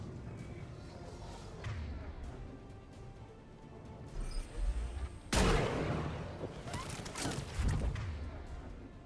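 Weapon fire in the video game Mass Effect 3, played on Insanity difficulty during the N7 Fuel Reactors mission, with a muffled battle rumble and then sharp, loud bursts of shots crashing in later, alongside background game noise.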